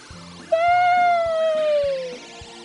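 A cat in the video game Lost Judgment lets out one long, clear meow that slowly falls in pitch, heard over quiet, steady game music.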